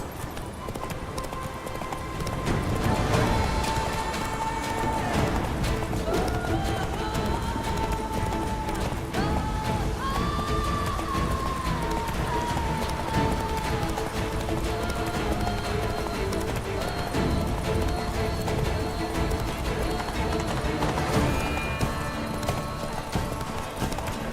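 Steady clip-clop of a horse galloping in Witcher 3 Wild Hunt, hooves pounding continuously at close range over game music, with a faint whinny, no talk.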